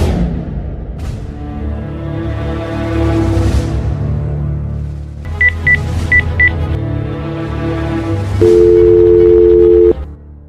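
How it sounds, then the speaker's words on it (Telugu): Telephone keypad tones from a faulty phone: a few short, paired dialing beeps followed by a steady, held tone lasting over a second, all set against a busy, continuous background. "రామ్మోహన్ గారు, ఈ ఫోన్ పనిచేస్తలేనట్టుందండి, రిపేర్కి వచ్చినట్టుందండి."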